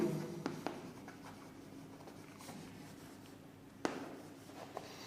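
Pen writing on paper, faint scratchy strokes with a few soft taps in a quiet room, no talking.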